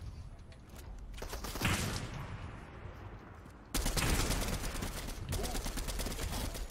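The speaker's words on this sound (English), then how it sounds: "Yeah, Hunter, I need covering fire." Gunfire in the Fortnite video game, a busy rattle of rapid shots that runs throughout and turns louder and denser partway through.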